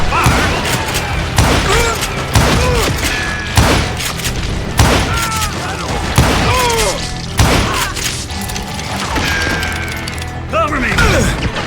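Gunfire in a shootout with bandits in Call of Juarez: Gunslinger, a rapid run of loud, close shots and impacts in uneven bursts, with shouted voices mixed in.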